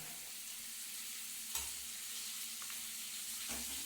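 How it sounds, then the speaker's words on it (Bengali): Pointed gourd (potol) pieces fry together in hot oil, a soft continuous sizzle with a couple of sharper stirring knocks of a spatula against the pan, no speech. "পটলগুলো আমি একটা একটা করে ভাজবো না একসাথেই দিয়ে দিচ্ছি এটাকে নাড়িয়ে নাড়িয়ে আমাকে লাল করে ভাজতে হবে"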